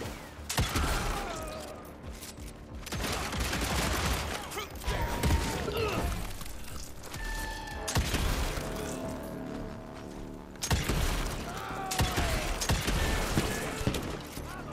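Rifle fire in the video game Evil West, repeated loud booming shots in bursts across the stretch with mechanical reload clatter and crashes between them.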